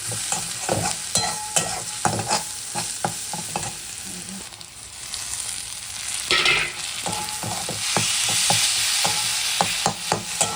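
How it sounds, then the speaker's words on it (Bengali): Roasted eggplant with mashed tomato and green chili fries in a pan for an Uttar Pradesh style begun pora, a steady sizzle broken by repeated scraping stirs of a spatula, close and clear with no talking. "এবার এটাকে একটু ভালো করে ভেজে নেব"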